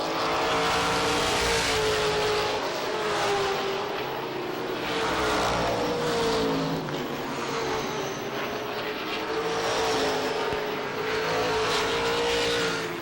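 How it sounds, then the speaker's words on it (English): Pro stock cars race flat out to the finish at Lee USA Speedway, their engines roaring loudly and steadily throughout, with rising and falling pitch as the field passes. "Checkered flag is up, and Tripp wins it"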